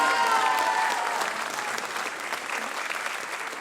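Concert audience applauding warmly for a student bassist at an end-of-year ensemble class concert, dense continuous clapping throughout with a few faint tonal traces early on, easing slightly in volume toward the end.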